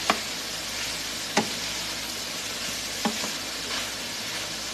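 Cabbage and sausage sauté in a pan with a steady, broad sizzle, broken by a few sharp taps of a utensil against the pan. No one speaks.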